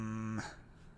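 Dog whimpering in a Sherlock video game: a single short, high, tonal whine that fades into quiet background.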